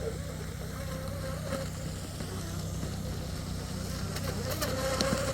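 A small RC boat motor with a submerged drive whines steadily at a distance, buzzing like an insect over a constant low rumble, with faint voices beneath it.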